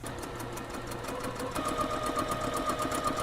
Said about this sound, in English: we're going to add a simple basting stitch that's a 1/4 inch seam allowance down the top of the